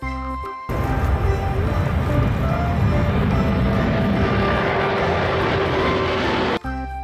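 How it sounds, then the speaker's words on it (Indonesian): A steady engine roar of an airplane passing overhead, loud and continuous, with no voices. "pesawat terbang"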